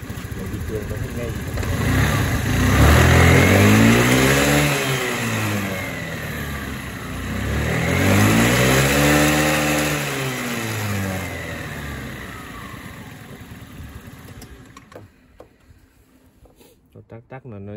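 A Honda Today scooter engine with a ticking fault is revved twice: each rev swells, then falls back to idle. The engine sounds close and fairly loud, with some talk, before it fades near the end.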